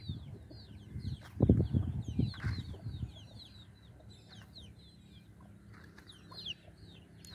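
A farmyard hen clucks at close range with a few soft fluttering sounds. Bursts of louder low thumping come early, and fainter clucks continue throughout.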